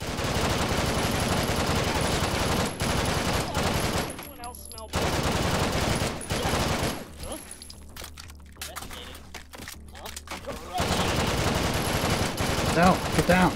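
Rapid bursts of automatic gunfire from a high-capacity gun in the VR shooter Hot Dogs, Horseshoes & Hand Grenades, Take and Hold mode, loud and dense, pausing mid-clip before resuming.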